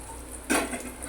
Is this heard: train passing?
no